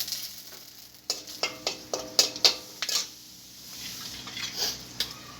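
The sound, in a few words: dried chillies and bay leaves frying in oil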